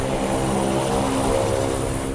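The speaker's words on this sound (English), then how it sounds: "The motor fired up on land just fine" An electric motor and propeller on a 1940s-designed seaplane running on land, a loud, steady droning whir with no pause and no voices.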